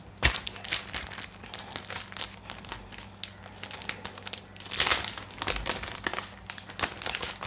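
Plastic packaging for an anti-fog visor insert being opened, giving repeated close crinkling and crackling rustles with a steady low hum underneath and no talking.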